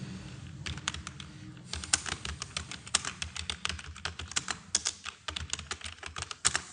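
Someone types steadily on a computer keyboard, and the quiet, close keystrokes form an uneven, rapid run of clicks with no voices.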